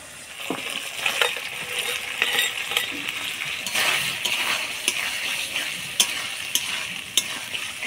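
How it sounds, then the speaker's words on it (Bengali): Fried prawns are stirred in a pan of curd gravy: a close sizzle runs underneath repeated metallic clinks and scrapes of a spoon against the pan, coming in irregular bursts with no voices. "চিংড়ি মাছটা দিয়ে ভালো করে নাড়াচাড়া করে নিলাম"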